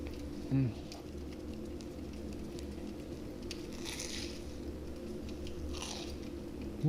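Crisp, crackly crunching of food being chewed, close up, over a steady low background hum, with a few brief louder bites.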